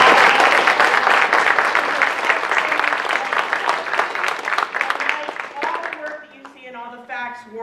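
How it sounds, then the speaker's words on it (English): A talk audience claps in dense, sustained applause that starts loud and gradually thins out, leaving a few scattered claps and a voice at the end. "Can we give a nice round of applause for that?"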